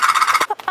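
A person's voice imitates a hen clucking, first a steady rapid series of nasal clucks, then three separate short clucks with pauses between them, close and loud, with no other talk.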